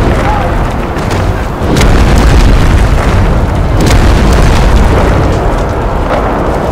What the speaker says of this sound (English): We did not sign up for artillery fire.